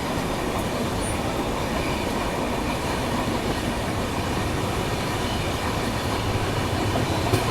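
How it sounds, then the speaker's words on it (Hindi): Vande Bharat train to Banaras pulling out of New Delhi, a steady loud rumble of rolling wheels and carriages with rhythmic clatter and occasional faint squeal, continuous throughout with no voices. "तो ये देखिए बनारस वंदे भारत बनारस के लिए निकल रही है।"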